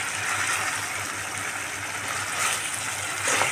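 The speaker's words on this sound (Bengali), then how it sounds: "এটা চিকেনের থেকে যে জুস বেরোবে সেই জুসেই সিদ্ধ হয়ে যাবে" Chicken simmers covered in its own juices, a steady soft watery bubbling and hiss with a faint low hum underneath.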